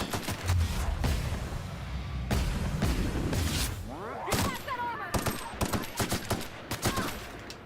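Several bursts of heavy-ammo gunfire in the sci-fi shooter The Outer Worlds, loud and close with sharp repeated cracks and short gaps, alongside other combat effects and a brief voice.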